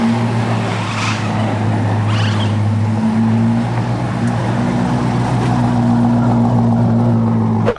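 LS-swapped car engine idling and running steadily as the car pulls out, a loud continuous low rumble with a steady hum, close by, no talking.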